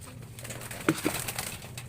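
A pigeon gives a brief, low, muffled coo at close range, a soft throaty burst in the middle of a quiet stretch with a faint steady background hum.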